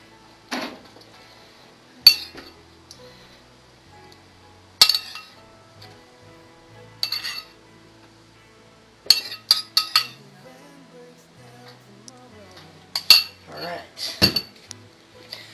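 A spoon clinks against a dish while barbecue sauce is coated onto pork spareribs: sparse, sharp metallic taps and scrapes separated by stretches of near silence, with a cluster of clinks toward the end.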